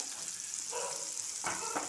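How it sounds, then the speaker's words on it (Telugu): Soft, steady sizzling of chopped ginger in hot oil, close by, with a couple of brief stirring scrapes. "అల్లం కొంచెం మనం కొద్దిగా అలా వేగనిస్తే చాలు"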